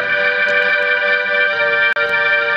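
A Korg CX3 organ plays through a Motion Sound PRO-145 rotary speaker, giving sustained bright chords that shimmer and swirl, loud and close, with a very brief gap near the end and no talking.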